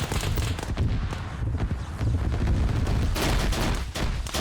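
A dense, sustained barrage of gunfire rattles through a video game battle, overlapping shots and booms piling up loudly and continuously with no pauses.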